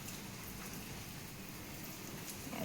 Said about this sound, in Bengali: আর এইদিকে দেখাই বৃষ্টি হচ্ছে, কন্টিনিউ বৃষ্টি পড়ে যাচ্ছে।